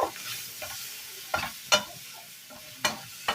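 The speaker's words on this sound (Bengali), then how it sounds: "এই নুন, হলুদ আর জিরে বাটা দিয়ে টমেটোটাকে একটু কষিয়ে নেব।" Tomato sautéed in a pan with salt, turmeric and cumin paste gives a faint sizzle broken by several sharp scraping strokes of a spatula, spaced irregularly and close by.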